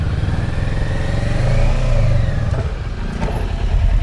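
A motorcycle rumbles at low speed through a narrow gap at a mountain road entrance beside a gate, its engine close and steady with a slight rise in revs and some clattering.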